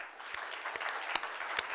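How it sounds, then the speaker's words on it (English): Faint, distant audience applause at a travel industry conference's welcome session, a soft wash of clapping with a few sharper claps standing out over a short span. "I want you to applaud them warmly."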